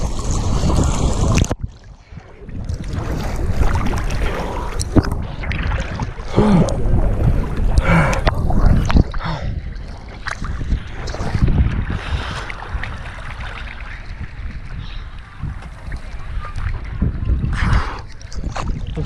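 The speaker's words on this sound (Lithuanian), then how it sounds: "Toks laivas mūsų." A boat moving across the Red Sea, its engine and hull rumbling steadily alongside wind buffeting the microphone and splashing waves, with no talking.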